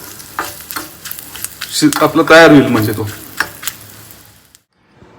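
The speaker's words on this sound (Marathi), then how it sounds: "आपण कढीपत्ता घालायचा ह्याच्यामध्ये आणि मोहरी ना आपली जी फोडणी जी आहे ना ती थोडीशी एक अर्धा मिनिटभर अशी परतून घ्यायची" Curry leaves and mustard seeds sizzle in a hot oil tempering for raw mango chutney, a close frying hiss that someone talks over briefly before it fades to silence.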